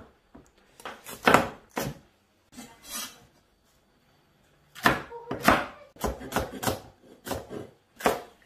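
A knife slices a green bell pepper into rings on a cutting board, giving a series of crisp, close chopping cuts in short bursts with brief pauses between them.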